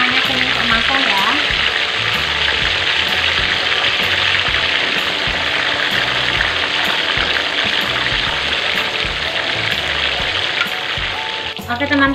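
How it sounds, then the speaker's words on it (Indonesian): Steady, dense crackling sizzle of chicken frying in hot oil, loud and continuous throughout with a faint voice in the background. "sekarang kita goreng ayamnya"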